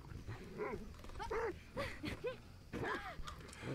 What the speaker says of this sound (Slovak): počujem psa